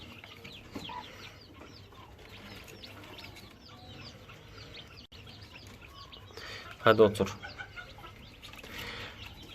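A broody silver Sebright hen clucks in low, soft grumbles under a man's close speech, then gives a sudden loud, rapid burst of agitated clucking near the end before settling back to quiet murmurs.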